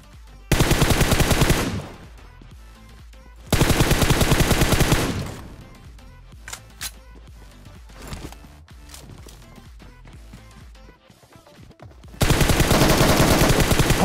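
Automatic rifle fire in PUBG Mobile, three long, loud bursts of rapid shots separated by quieter stretches of scattered single shots and footsteps.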